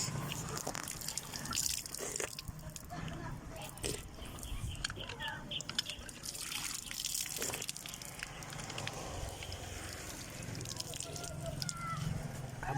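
Water gushes hard and steadily from a shallow-well hand pump outdoors, a close, continuous splashing rush with faint voices murmuring in the background.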